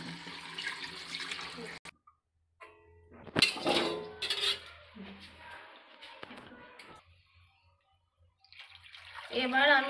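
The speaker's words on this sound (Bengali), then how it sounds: "তো যতক্ষণ না পরিষ্কার হয় ততক্ষণ এগুলো ভালো করে ধুতে হবে।" Ash gourd pieces, cloudy from a lime-water soak, are rinsed and swished by hand in a sink, with splashing and running water that come and go, a few soft clinks, and brief pauses of near silence.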